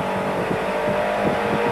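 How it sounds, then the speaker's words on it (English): Turbocharged Renault 5 Elf Turbo cup race car engine revving hard, a busy buzzing drone held steady over a couple of seconds at moderate distance, no voices. "Winding the little Renault turbocharged engine up just as hard as it can go"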